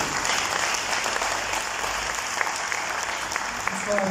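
An audience applauds at an Institut français de Maurice event, a dense continuous wash of clapping from a room full of people, steady and fairly loud, with a voice beginning near the end.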